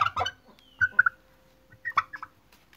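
A turkey gobbles in several quick, close bursts, wandering near a workshop where a two-stroke engine is being rebuilt. No talking is heard.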